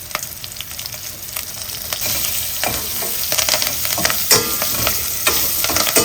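Curry leaves and asafoetida fry in a pan for sambar with a constant crackling sizzle, punctuated by sharp clicks and scrapes of stirring that grow busier toward the end, no talking.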